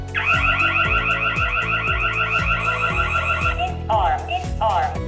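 A burglar alarm from an HY-W20-S alarm kit blares a loud, continuous warbling siren that rises and falls steadily, with a rhythmic low pulsing beneath it. Near the end it breaks into a couple of shorter bursts.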